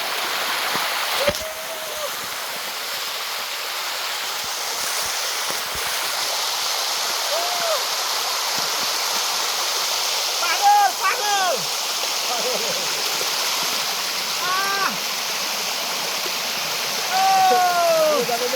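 A waterfall rushes steadily and loudly throughout, a constant broadband roar, with brief faint voices calling now and then over the water.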